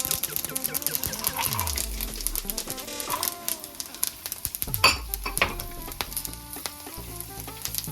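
Mustard seeds and chana dal hit hot oil in a pan, bursting into a loud, steady sizzle with crackling pops, a few light utensil clinks, and a second fresh surge of frying partway through.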